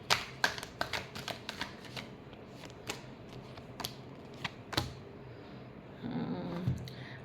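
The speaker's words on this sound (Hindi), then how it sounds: "last shuffle" Tarot cards are shuffled in quick crisp riffles and taps, close and distinct, with a murmur of sound toward the end.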